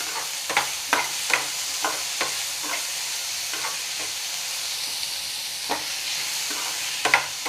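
Garam masala being stirred into tomato rice in a hot pan, with a spoon scraping in irregular strokes over a soft continuous sizzle, close and alone.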